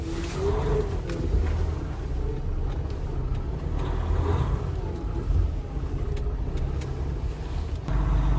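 An old Volvo truck with about 800,000 km on it driving along, giving a steady low engine drone and road rumble with wind noise inside the cab throughout.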